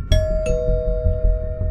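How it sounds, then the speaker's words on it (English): A doorbell rings with two bright chimes in quick succession, the tones ringing on over low background noise. "The doorbell suddenly rang."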